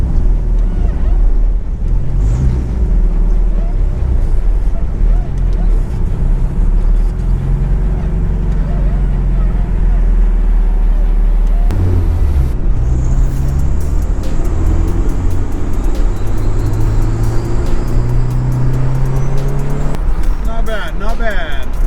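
A turbocharged car engine idles steadily while warming up, a loud, constant low rumble throughout, with someone talking over it.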